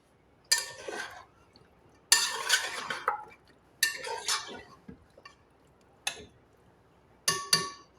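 A kilo of washed mutton being mixed in a pressure cooker: five separate bursts of metal spoon scraping and clinking against the pot, each lasting about half a second to a second, with short quiet gaps between them and no voices.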